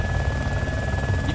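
A continuous helicopter engine drone in the video game DayZ, with a low rotor throb and a steady high whine, loud and unbroken, with no talking.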